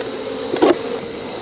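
Honey bees from a traditional log hive, with one bee droning briefly past close by over a quiet background.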